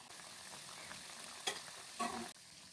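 Assamese pitha rice cakes fry in a pan with a faint, steady sizzle, broken by two brief scraping stirs.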